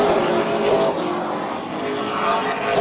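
Super Late Model race cars at speed on the Oyster Bed oval during a 150-lap event, their engines forming a loud, continuous, dense roar that holds steady for the whole stretch.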